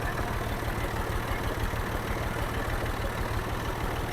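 A tractor engine runs steadily at close range, a low, continuous mechanical rumble with a regular throbbing pulse and no break across the few seconds.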